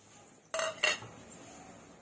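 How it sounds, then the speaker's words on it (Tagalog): Metal pan and utensils clatter twice in quick succession, two sharp close knocks while frying garlic in hot oil for pork humba, then quiet. "And this is my favorite pan"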